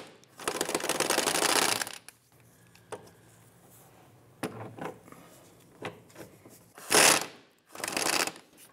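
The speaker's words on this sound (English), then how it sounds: "We're going to use a 13mm socket to loosen these bolts." A 13mm socket wrench ratchets on the driver's side forward subframe bracket bolts of a 2005-2007 Ford Five Hundred, with a long rapid clicking burst, scattered single clicks, then another short burst, close and clear with no talk.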